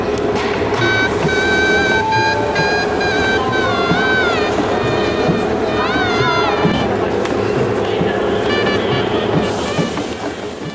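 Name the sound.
busy railway station ambience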